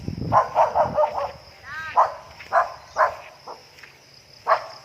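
A dog on a farm in the countryside barks repeatedly in short, sharp bursts close by, with a few yips, while people talk quietly in the background.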